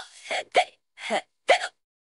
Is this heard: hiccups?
yes